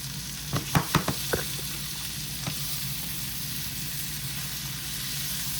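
Spicy smoked sausage frying in a pan gives a steady, soft sizzle, with a few sharp pops and clicks near the start before it settles into an even hiss.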